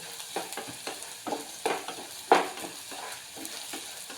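Onions sizzle in a pan under quick, rhythmic stirring, with soft scraping strokes every half second or so.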